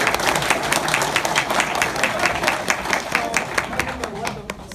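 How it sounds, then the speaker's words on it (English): Audience applause at a live gaming convention Q&A panel, steady dense clapping throughout with a few individual claps standing out, filling the room at close range. "Round of applause for that gentleman."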